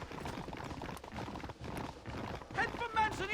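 Rapid hoofbeats of a galloping horse in a Western video game, a steady clip-clop rhythm running throughout under continuous talking, with a brief whinny-like tone near the end.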